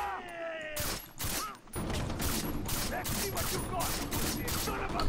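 Gunfire from a gun in the video game Far Cry 3, a rapid string of sharp shots repeating in quick bursts at close range, loud and steady after a brief opening pause.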